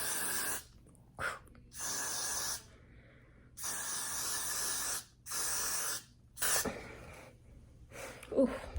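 Several short bursts of Got2b Glued hairspray hiss in a broken rhythm, each lasting about a second, close and fairly quiet, with brief pauses between them.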